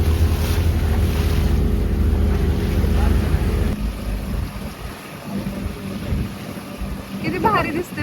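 Water moves around a boat on a Kerala backwater ride, with the low hum of the boat and wind buffeting the microphone, steady and fairly loud throughout, and faint voices in the background.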